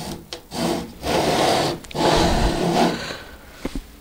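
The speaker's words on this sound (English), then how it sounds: "all you have to do is saw at it carefully" Hand saw cutting the tongue off an old oak floorboard being upcycled into a picture frame; three long rasping back-and-forth strokes, close and loud, separated by short pauses, with a couple of light taps at the end.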